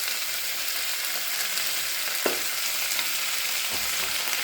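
Chili cauliflower, seasoned with salt and a little sugar, fries in a pan with a steady broadband sizzle, a brief stir around the midpoint and no voices.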